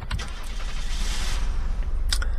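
A car in the survival video game Unturned drives with a steady, loud engine rumble and road noise, plus a few sharp clunks near the end, and no talking.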